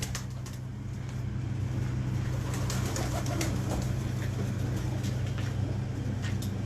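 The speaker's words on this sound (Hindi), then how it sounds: "ये टैडी है, ये टैडी कबूतरी है" Teddy pigeons coo against a steady background hum and low rumble of traffic, their soft calls running continuously and only faintly distinct.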